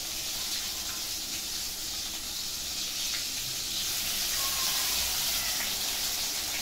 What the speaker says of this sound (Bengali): আমি বাকি পটলগুলো ভেজে নিই।